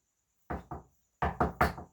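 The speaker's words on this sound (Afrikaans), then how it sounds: "En die olifant klop." Knocking on a big egg shell, two quick raps followed by a pause and then three firmer knocks, close and clear against silence.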